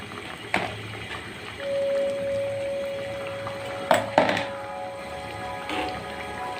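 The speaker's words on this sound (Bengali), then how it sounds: "এখন এর মধ্যে মাছের পিসগুলো দিয়ে দেব" Pieces of katla fish drop into a pan for curry, giving a few soft splashing thumps over a steady bubbling, hissing cook noise, with a thin steady tone running through the middle.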